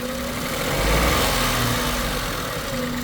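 A 2000 Honda Insight engine idles steadily up close during coolant bleeding, a continuous low rumble with a faint swell near the start and no talking.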